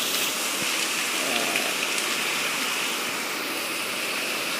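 Heavy rain pouring steadily outdoors, a dense, continuous hiss of drops close by with no break, loud and even across the whole stretch.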